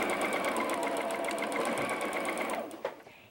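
Sewing machine stitching a quarter-inch seam on a diamond point quilt block, a close, fast continuous whir that runs for about three seconds before slowing to a stop.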